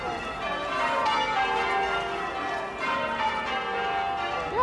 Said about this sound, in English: so nice to hear the church bells ringing